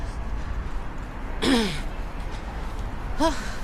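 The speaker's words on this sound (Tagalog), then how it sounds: "Hingal." Heavy breathing during a fitness walk aiming for 10,000 steps, two short gasping breaths close to the mic, the first near the middle and the second near the end, over a faint outdoor background.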